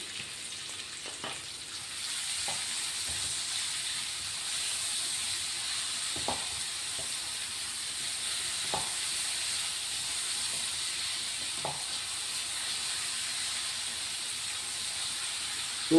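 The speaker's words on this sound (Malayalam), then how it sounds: "സവാള ഇടാം. ഇതിലേക്ക് കുറച്ച് ഉപ്പ് ഇടാം കേട്ടോ. നന്നായി വഴന്ന് കിട്ടും." Onion and salt fry in a pan for a mushroom roast, giving a steady, fairly loud sizzle and hiss, with a few faint clinks from stirring now and then and no talking.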